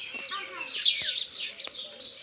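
Pigeons in a half-filled box chirp with high, quick calls close by over a couple of seconds, with a faint voice beneath.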